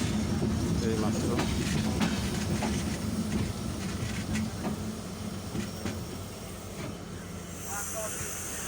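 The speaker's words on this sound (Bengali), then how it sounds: "ট্রেনটি ছুটে চলল" Train running from Tangail station toward Dhaka, a continuous rumble with rhythmic clickety-clack of wheels over rail joints, heard from on board, with voices faintly in the background.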